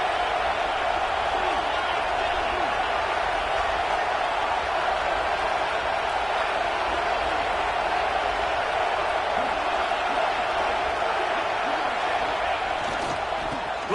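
Stadium crowd at an LSU football game roars in a steady, dense wash of cheering and noise that holds loud and constant throughout, with no pauses or distinct individual voices standing out.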